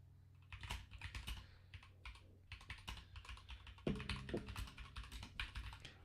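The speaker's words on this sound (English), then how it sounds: "Can hear the keyboard clacking" Computer keyboard typing, quick bursts of clacking keys with short gaps between runs, close and fairly quiet in a small room during a live podcast recording.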